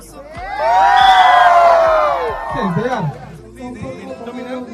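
A large crowd at a YouTubers meetup in Bongaigaon shouts and cheers loudly and close by, a swelling roar of voices that fades into scattered chatter.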